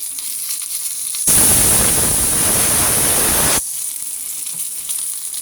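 Mustard seeds splutter in hot oil for a tempering with fenugreek, green chilli and curry leaves. A loud, dense sizzle bursts in suddenly, holds for about two seconds and then cuts off, with no talking.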